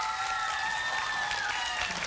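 An audience at an educational talk concert claps, a dense, steady patter of many hands at moderate distance filling the short stretch.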